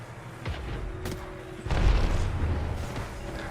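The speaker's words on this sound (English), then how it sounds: "Beautiful nades dropping down there." Grenades detonating in a competitive video game match, a few booming blasts with a heavier one midway, over steady background game noise.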